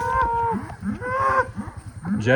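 Trained cattle, bulls and calves, moo loudly and close by in several overlapping calls, with long low bellows rising and falling one after another.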